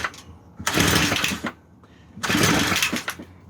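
2-cycle weed eater engine being pulled to start on half choke: two separate loud bursts of rasping pull-start and sputter, each about a second long, with quiet gaps between.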